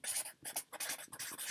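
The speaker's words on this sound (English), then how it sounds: "Okay, so I'm going to write down that word." A pen or pencil scratches out a single word in a few quick, close strokes with short pauses between them, alone and fairly faint.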